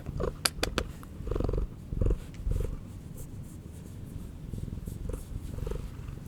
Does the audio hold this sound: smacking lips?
no